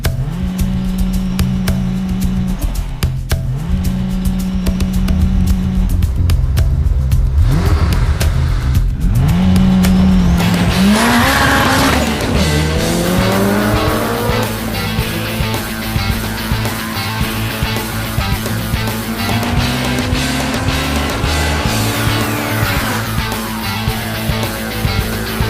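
A 650 bhp turbocharged Toyota Corolla with a 3S-GTE engine drag races an Aston Martin V12 on a track, engines roaring loudly through repeated gear changes and rising revs for the full run without speech.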